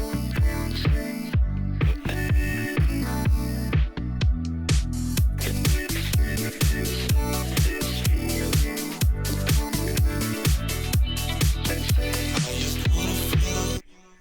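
A song verse built on a sped-up, filtered and compressed sample, with dense rhythmic drums and layered melodic texture driving continuously at full level, alone with no voices, ending in a brief drop-off.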